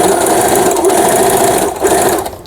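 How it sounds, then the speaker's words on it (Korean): Brother XR6060 sewing machine, a 110 V model under repair, running steadily through straight stitching, a loud continuous whirring hum that holds even for about two seconds before slowing and stopping, with no voices. "직선 바느질 해보도록"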